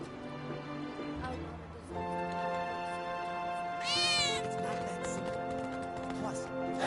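A cat meows once, high and short, partway through, in the Final Fantasy VII Remake game, over a steady background of soft music and ambient hum. No speech is heard.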